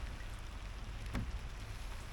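Rain falling outdoors at a greenhouse building site, a continuous broadband patter with one brief sharper tap partway through.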